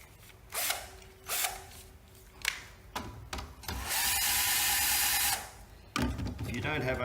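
A power string winder whirs in short bursts and then in one longer sustained run, unwinding guitar strings at close range amid clicks and handling noise.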